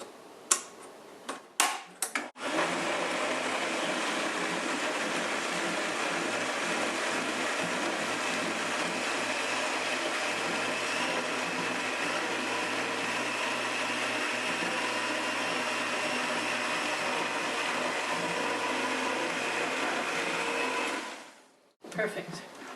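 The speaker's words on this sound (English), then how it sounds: "this particular blender has a tamper attachment" A blender with a tamper attachment running continuously for about twenty seconds, blending raw granola with apples. It gives a loud, steady whir after a few clicks at the start and stops abruptly at the end.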